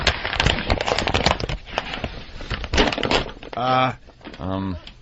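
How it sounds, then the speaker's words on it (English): Paper rustles and crackles in loud, busy bursts close by, followed by two short spoken phrases. "Keep rustling the paper so they know it's breaking news."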